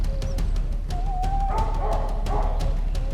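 A dog in a forest during a bear hunt gives yelping, whining barks in quick repeated bursts, loud and close, with rising cries in the middle over steady background noise.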